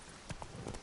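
Roach, the horse in Witcher 3, trots with a few brief hoof clops in a short burst, fairly soft and even.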